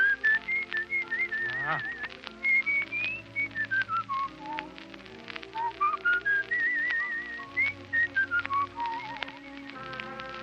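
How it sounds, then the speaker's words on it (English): Melodic whistled tune carried over a busy jazz band accompaniment, with a brief spoken exclamation near the start. "Make with the whistle."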